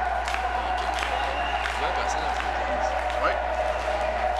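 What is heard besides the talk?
wrestling gala crowd cheering, rallied by wrestler Chopper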